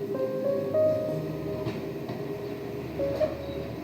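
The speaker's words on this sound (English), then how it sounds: "the train arrives at Toller station in the winter months" A British Rail train pulls into Toller station on the Bridport branch line in winter, 1975, a steady low rumble of wheels and engine with faint tonal squeals, held at moderate loudness throughout.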